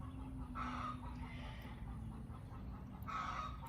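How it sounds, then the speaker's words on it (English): A backyard chicken lays in an old garage and gives two short bursts of clucking, one near the start and one near the end, faint and somewhat distant over a steady low outdoor hum. "Hear that chicken?"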